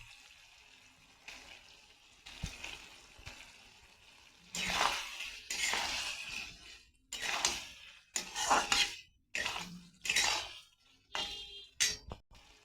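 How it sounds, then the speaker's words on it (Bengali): A utensil scrapes and clinks against a pan as chili soybean with tomato sauce and vinegar is stirred, with rhythmic metallic strokes growing louder and more frequent, close up and with no talking. "ভালো করে নাড়াচাড়া করবো আমি একটু টমেটো সস দিয়ে দেবো"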